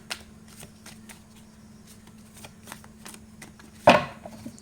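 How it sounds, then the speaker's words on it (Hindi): Tarot cards being shuffled by hand, a soft run of quick riffling flicks that ends in one sharper, louder slap of the deck near the end, with no talking. "एक नाइस शफल देते हैं हम लोग।"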